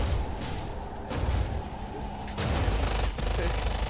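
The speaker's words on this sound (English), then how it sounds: "It's a loud gun" Loud gunfire from a movie playing in the background, sounding as dense bursts of rapid shots and booms that keep going without a break.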